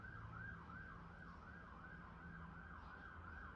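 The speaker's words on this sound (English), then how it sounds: "Just waiting for the sirens to leave." Emergency vehicle sirens passing by, wailing and cycling rapidly up and down at a distance, steady and continuous over low traffic rumble.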